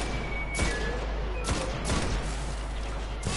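Gunfire from a weapon in the video game Destiny, on Venus: three or four sharp, loud shots at irregular intervals over a steady low background hum.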